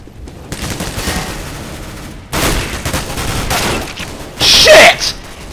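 Counter-Strike GO gunfire: several loud bursts of shots come in clusters, the last one the sharpest and loudest, with short pauses between volleys.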